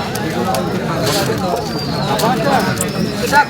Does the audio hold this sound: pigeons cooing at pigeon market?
yes